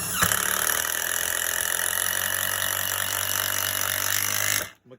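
A Makita impact drill drives a 3-inch bolt in one continuous, loud, close hammering run of rapid impacts lasting several seconds before it cuts off abruptly, with no voices.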